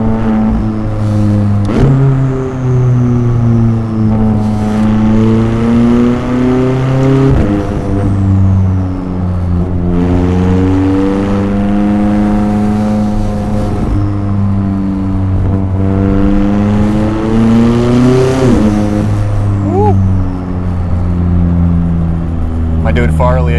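A McLaren 600LT engine revs loudly and repeatedly, rising in pitch with each pull and dropping sharply through several downshifts, with crackling blips between gear changes, all close and sustained.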